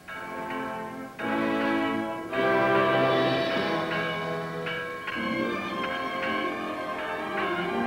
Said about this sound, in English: you can hear the tolling of its bell